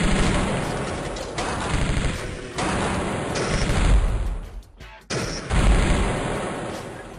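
Artillery and gunfire in the strategy video game Metal Fatigue during a snowy plateau battle: dense, loud bursts of shelling and rapid shots overlap continuously, with booms swelling and dropping.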